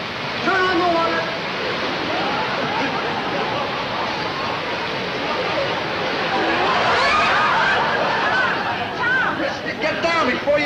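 Water gushes from a fire hose under pressure in a steady, loud, broadband rush that fills the whole stretch, with scattered voices shouting underneath.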